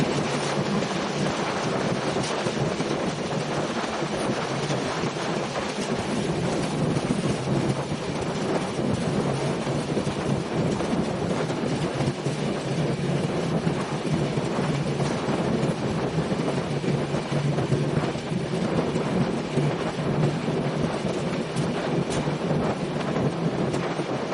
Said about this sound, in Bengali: অল্প সময় আমরা থ্রুপাস করে যাব মধুমতি রেল সেতু।